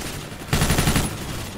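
A short rapid burst of automatic gunfire in the video game Left 4 Dead 2, loud and close, lasting about half a second within steady game background noise.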